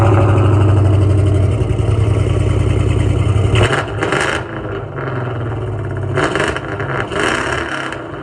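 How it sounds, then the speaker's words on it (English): A son's first car, with a freshly installed engine, idles with a deep steady rumble and then revs in sharp bursts, with a throttle blip near the midpoint and another toward the end, loud and close. "I'm gonna rev it up again."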